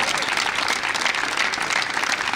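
Steady applause from a spelling competition audience, sustained and even throughout, with no break or fade.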